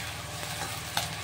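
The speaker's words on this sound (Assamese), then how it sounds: "এয়া মাছ ভাজি আছোঁ" Fish fries in hot oil, giving a steady close sizzle and crackle with a faint stir partway through, no voices.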